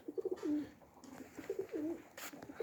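Domestic pigeons coo softly in short repeated phrases, several coos in quick succession at a modest distance. Low background noise fills the gaps.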